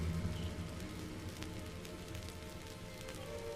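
Steady rain falling, a soft continuous hiss with scattered drop patters throughout, fairly even in loudness.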